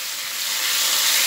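Potatoes, green chili, tomato and turmeric frying in a pan: a steady, loud sizzle and hiss, close and continuous, with no voices over it.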